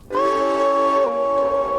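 Steam locomotive whistle in the train simulator Derail Valley, a single loud sustained chord-like blast that starts abruptly and holds, with a slight pitch drop partway through and no talking over it.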